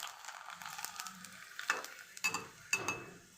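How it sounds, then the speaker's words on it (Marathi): A fasting papad fries and puffs up in hot oil, a soft close crackling sizzle broken by several sharper spattering pops and light utensil scrapes. "तेलात टाकल्यानंतर किती फुगतो पहा. उपवासाचा पापड आहे हा."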